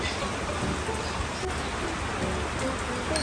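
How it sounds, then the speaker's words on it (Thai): Heavy rain pours down steadily outside a small coffee shop, a dense, even hiss of drops drumming on surfaces with no break, fairly close and loud. "ที่นี่ฝนตกนะครับ"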